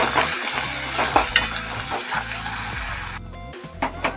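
Onions frying in a pan for tomato charu are stirred after ginger-garlic paste and turmeric go in, giving a steady close sizzle with repeated scraping strokes.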